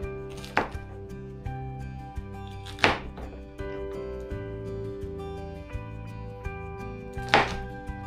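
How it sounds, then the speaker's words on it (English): A knife cuts habanero peppers into quarters on a board, giving three sharp, separate chops spaced a few seconds apart beneath steady background music. "habanero peppers. I'm just gonna give them a slice, quarters."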